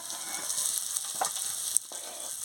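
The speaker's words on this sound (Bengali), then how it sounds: "নুন দিয়ে ভালো করে ভেজে নিচ্ছি।" Potatoes fry in hot oil with a little salt, producing a steady close sizzle and hiss with a few faint stirring scrapes, heard alone.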